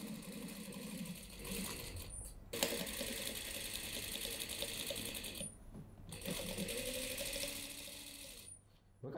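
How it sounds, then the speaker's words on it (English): A close sewing machine runs a reinforcement seam on a denim tote, whirring steadily in long bursts broken by two brief stops, with a faint voice now and then beneath. "Let's do a reinforcement stitch for strength, right? We need to stitch the second seam again."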